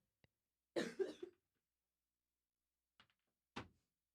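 A short, muffled cough near the start, followed by a pause and two faint, brief throat sounds later, in an otherwise silent room.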